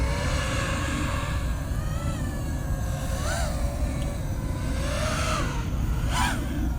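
An Eachine LAL5 5-inch FPV drone flies with its motors buzzing steadily at low throttle, the whine swelling briefly a few times as throttle changes, at moderate distance over constant background noise.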